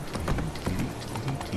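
Horse hooves clip-clop steadily along a road in The Witcher 3 video game, a brisk, even rhythm of close, clear hoofbeats heard alone without speech.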